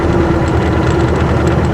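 A Ford B2500's 2.5-liter four-cylinder engine idles steadily up close, a loud, continuous low rumble with an even hum and no voices over it.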